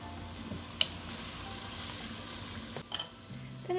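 Chopped onions sizzle steadily in olive oil in a pan for a vegetable stew, a soft continuous frying hiss with a few brief clinks and stirring noises, no talking.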